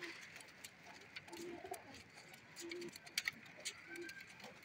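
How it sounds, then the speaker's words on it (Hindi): Blue pigeon among a flock of flying-breed pigeons at a market, giving soft low coos in a few short phrases, fairly near, over faint background chatter and bird calls. "वो पीछे एक नीला कबूतर है"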